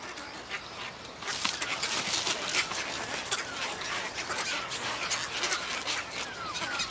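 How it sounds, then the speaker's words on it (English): Hundreds of nesting egrets calling together in a rainforest breeding colony, a dense continuous chatter of squawks and harsh cries, some close and some distant, with no talk. "Hundreds or even thousands of egret couples work hard to build their nests"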